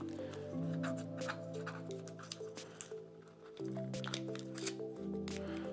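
Packaging of Nothing Ear (Open) earbuds being pried open, with crinkly, squishy handling noises and sharp little cracks over steady background music.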